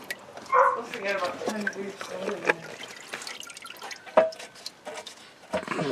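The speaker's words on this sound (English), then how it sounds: "start loosening the back bolts out till you get a bit of a trickle like this" Liquid trickling and dripping out of a pan after its back bolts are loosened, a light irregular patter partly under someone talking.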